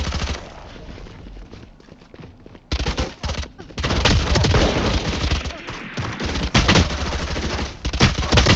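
Rapid bursts of gunfire in the Valorant shooter game, loud dense volleys and sustained automatic fire that pick up after a quieter opening stretch and continue to the end, with faint voices underneath.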